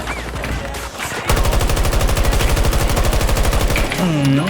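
Sustained automatic gunfire from a player's favored rifle in Battlefield 2042 Conquest mode, a loud rapid rhythmic burst of shots lasting several seconds, followed by a whining mechanical tone.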